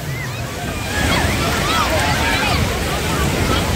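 Sea surf at Juhu Beach in Mumbai, a broad continuous wash of waves with wind buffeting the microphone, steady and loud throughout, with faint voices of bathers in the background.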